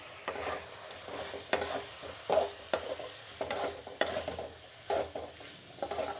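Chicken curry frying in a pan at home, with steady close sizzling broken by repeated scraping stirs of a spoon against the pan, loud and unbroken, no talking.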